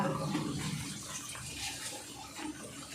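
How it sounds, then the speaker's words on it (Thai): Tap water runs and splashes continuously as vegetables for larb are rinsed under it. The sound is a close, moderate flowing gush with no speech. "ล้างผัดให้สะอาดนะจ๊ะ"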